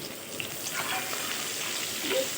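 Onions browning in a pan with whole garam masala and bay leaves for Bengali chicken kosha, giving a steady close sizzle with faint stirring and watery crackle throughout, no talk.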